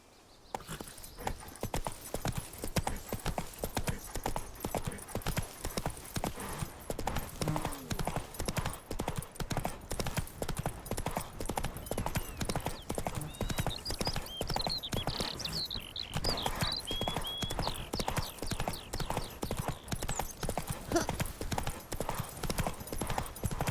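Roach, a horse in The Witcher 3, gallops with steady rapid clip-clopping hooves that run continuously at a loud, even level, with a brief whinny-like call partway through.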